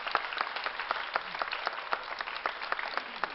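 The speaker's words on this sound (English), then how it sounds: "Give him a big round of applause." Audience applause at the Santa Fe Indian Market award ceremony as a winner is called up, a steady patter of many clapping hands filling the room without pause.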